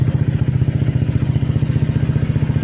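Motorcycle electric starter cranking on a LiFePO4 lithium battery, a steady rapid pulsing whir with low mechanical clatter, close and loud throughout without any voices.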